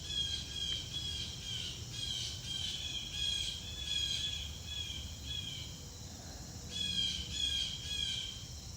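Birds call and chirp steadily outdoors, high and bright, with a quiet low rumble beneath, during a meditation in nature.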